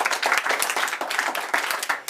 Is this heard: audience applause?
yes